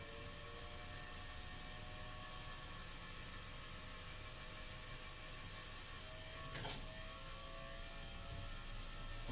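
Steady mechanical whirring and hum from a cylinder shaving machine running on 1890s Edison wax, with a brief louder scrape or swish near the end, no voices.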